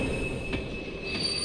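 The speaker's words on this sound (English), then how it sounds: "Oh, it's that weird train that he couldn't get on, he missed." Train wheels squeal in the Kingdom Hearts 2 video game at a train station, a sustained high metallic whine over rumbling rail noise, with no talk.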